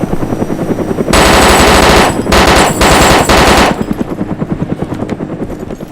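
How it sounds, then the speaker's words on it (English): A light machine gun fires in long sustained bursts within the video game DayZ, loud and close, with short pauses between bursts before trailing off into scattered softer shots. "I have a light machine gun, and I could easily rip into that"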